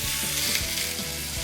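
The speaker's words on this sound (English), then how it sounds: "So I need the griddle, I need it hot, and I need the steak dry." Chuck roast steak searing on a hot griddle, a steady close sizzle and frying hiss running unbroken throughout with no talk.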